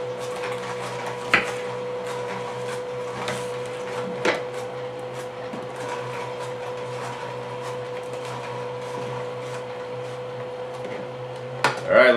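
A Kuvings or KitchenAid slow juicer drawing in and crushing a carrot, a steady low mechanical hum throughout with occasional knocks and cracks, a cluster of them at the very end.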